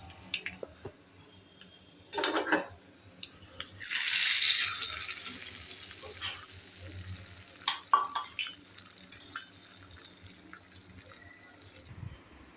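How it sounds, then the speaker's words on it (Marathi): A hot tempering poured into whole masoor curry gives a sudden loud sizzle that fades into steady frying hiss, with some clinks and stirring around it; no talk. "आता ही जी फोडणी आहे ना ती आपण ह्या अख्ख्या मसूरच्या भाजीमध्ये घालणार आहोत"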